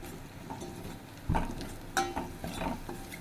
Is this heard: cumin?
yes